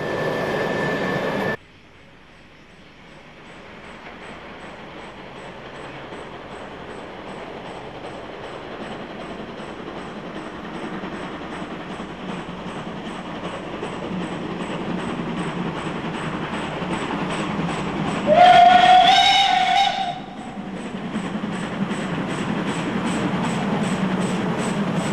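A Swiss C 5/6 Elefant steam freight locomotive hauling a train along the rails, a steady rolling rumble with wheel clatter that slowly grows louder, with a brief high squeal or whistle-like tone partway through.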